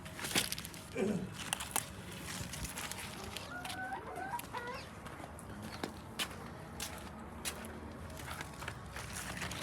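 Chickens cluck repeatedly in a farmyard, with short squawks and chatter rising and falling at close to moderate distance over a steady outdoor background, no talking.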